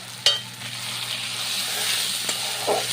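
Ground coriander, cumin, chili, turmeric and sugar sizzling in hot oil in a pan for a fish roe curry, a steady close hiss broken by a few sharp clinks and scrapes of a spoon stirring.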